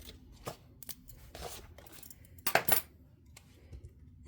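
Scissors trim paper florals for a planner page in a quiet room, giving a few soft, close snips and papery rustles spread unevenly, one cluster of cuts louder than the rest.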